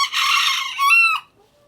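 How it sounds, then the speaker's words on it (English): Chickens clucking and a rooster crowing close by in a farmyard, a dense run of calls followed by a brief crowing phrase, then quiet. "You go over there with the other chickens."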